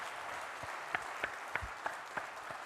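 A Korean Presbyterian church congregation claps in blessing at a pastor's installation service, soft scattered applause with a few sharper individual claps standing out in a loose rhythm.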